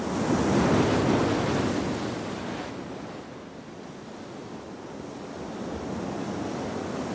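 Surf crashes steadily against a rocky Pacific coastline with granite cliffs and offshore pinnacles, a continuous loud roar of breaking waves and wash, swelling strongest at the start and easing slightly, with wind buffeting the microphone.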